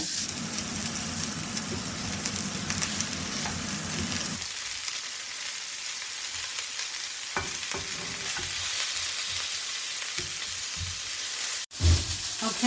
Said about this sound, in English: I'm going to get all these pieces in, let them brown, and then we'll add the pork belly.